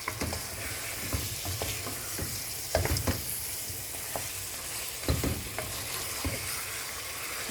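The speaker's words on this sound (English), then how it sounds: "This is called the wet fry." Pork wet fry sizzling steadily in a pan, Kenyan style, with a continuous crackling hiss and a few louder scraping stirs near the start, middle and end; no voices.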